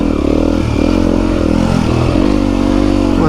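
A Yamaha WR250F enduro motorcycle rides on desert trails, its engine droning loud and close with the pitch rising and dipping through revs, steady throughout with no talking.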